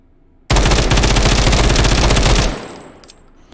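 An MCX-style rifle chambered in 7.62 fires a loud, close rapid burst of shots lasting about two seconds, then an echoing tail fades away.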